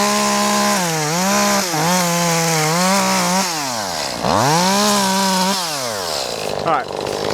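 A Shindaiwa 251TSN chainsaw cuts wood at full throttle, its engine loud and close, the pitch dipping and rising repeatedly as it bogs under load and recovers.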